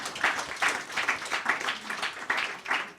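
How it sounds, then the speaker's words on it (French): An audience applauds after a talk, steady close clapping from a modest crowd with slightly pulsing intensity, continuing throughout without speech. "on peut les applaudir parce que ça a été passionnant"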